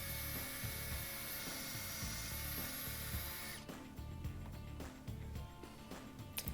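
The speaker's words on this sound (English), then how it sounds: "we drilled a hole." A power drill bores a hole in a wooden pergola post, a sustained high whirring whine for several seconds that cuts off abruptly, followed by quieter clicks and rattles of handling, fairly faint and distant.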